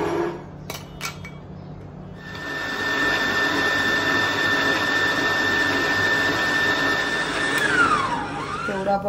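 An electric kitchen machine fitted with a kebab nozzle starts up after a few clicks and runs with a steady whining motor drone and a high tone, then winds down at the end.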